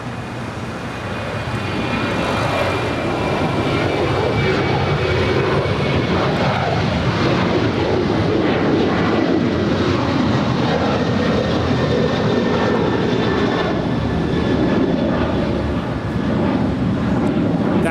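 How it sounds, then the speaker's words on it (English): An Alaska Airlines Boeing 737-900ER departing LAX makes a loud, sustained jet engine roar with a faint high whine, swelling early and holding steady. "That is Alaska 342 departing to Loretto. It's a 737-900 ER."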